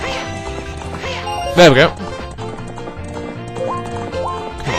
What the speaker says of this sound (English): Move, you damn horse!